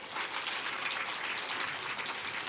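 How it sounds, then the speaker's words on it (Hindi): An audience at a Shrimad Devi Bhagwat Katha gathering claps to welcome an elderly man, a steady, moderately faint wash of applause lasting a few seconds without a break. "तालियों से स्वागत करिए"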